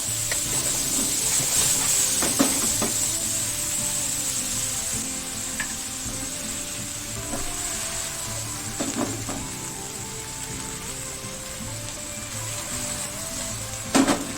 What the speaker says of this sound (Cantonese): 用大火將杏鮑菇而家放落去